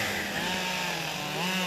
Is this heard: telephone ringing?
no